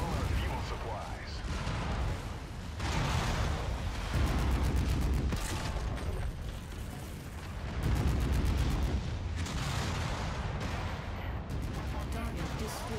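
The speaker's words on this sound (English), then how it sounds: "Enemy reactor explosion detected." Video game combat in Merc Life with repeated booming explosions and bursts of fire rolling over a dense, noisy battle mix, with some voice chatter mixed in.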